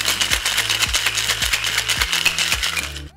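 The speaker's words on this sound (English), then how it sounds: "Now shake the ingredients together." Ice rattles hard inside a metal cocktail shaker with cranberry juice and peach schnapps, shaken in a quick steady back-and-forth rhythm for a few seconds, close and loud.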